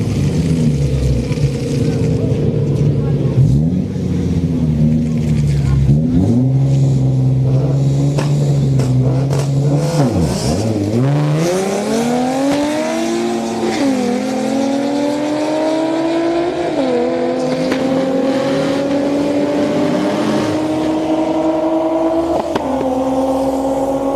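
At a street-night drag race in Orlando, a Holden-badged Commodore and a Camaro SS roar loudly nearby, engines revving and climbing through rising gear pulls in a sustained, continuous drone, with an announcer's voice faintly underneath.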